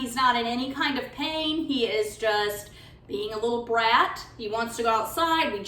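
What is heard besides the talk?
No distinct noise like a dog, phone or traffic.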